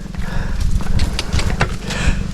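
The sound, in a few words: horse on a mountain road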